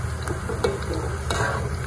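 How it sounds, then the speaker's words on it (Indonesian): Peanuts dry-roasting in a pan without oil, for garlic peanuts, are stirred continuously, giving a soft scraping, rustling churn with light crackle and a few sharper clinks against the pan, close and steady. "Anda aduk terus teman-teman, jangan sampai dia lengah atau gosong"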